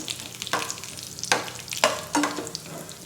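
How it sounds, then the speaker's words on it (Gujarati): Cashew and almond pieces frying in hot ghee, with a steady soft sizzle broken by several louder scraping stirs of a spoon through the pan, close up and with no talking. "ઘી ગરમ થાય એટલે આપણે તેની અંદર કાજુ બદામના ટુકડા તળીશું"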